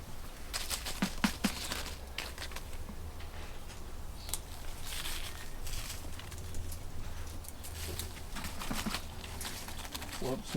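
Fertiliser granules sprinkled onto a garden sweet potato plant make light, quick patters and ticks in short bursts over faint outdoor background noise.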